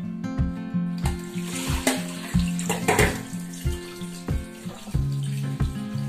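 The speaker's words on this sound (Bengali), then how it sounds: "চলুন এবার ধুয়ে নিয়ে আসি মাছগুলো।" Small fish being washed in a basket under running water, with a close, uneven splashing and pouring that has repeated sharp knocks and clatters as the basket and fish are handled.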